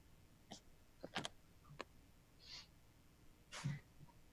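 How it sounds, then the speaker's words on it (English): An owl hoots in a handful of short, separate calls spaced irregularly, faint and somewhat distant over a quiet background with no talking. "I hear the owl."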